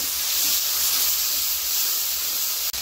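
Water poured into spices frying in a pan hisses and steams loudly, a broad continuous rush that stays strong before cutting off abruptly at the end.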